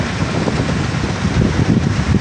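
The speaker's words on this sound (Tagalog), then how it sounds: "Ang lakas ng hangin mga idol." Strong seaside wind buffets the microphone with a heavy, gusting low rumble that swells and dips continuously, loud and close, with no other sounds standing out.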